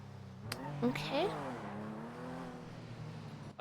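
An Astron car engine in the GTA RP NoPixel world revs up and accelerates with rising tones, some distance off, under a speaking voice.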